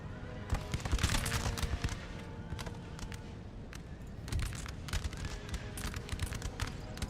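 Musket volley fire in Empire Total War, a dense crackling spread of many shots with sharper bursts near the start and again midway, over a constant battlefield din and no clear talk.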